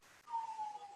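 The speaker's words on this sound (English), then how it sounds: "What's the siren?" A siren wails faintly in the distance during a borough council meeting, a thin steady tone that slowly dips in pitch over quiet room noise.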